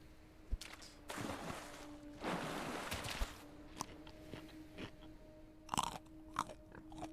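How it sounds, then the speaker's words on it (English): Crunchy in-game chewing from eating berries in the Minecraft Everwind modpack: two bursts of loud crunching close up, followed by a few sharper crunches, all over a faint steady hum with no talking. "berries shouldn't sound like that. If you're eating berries that give it like have a nice crunch to them, that's wrong"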